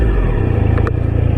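A Triumph Street Triple RS motorcycle engine revs steadily at close range, a loud throbbing drone with a rapid pulsing beat.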